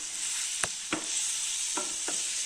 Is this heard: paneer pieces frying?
yes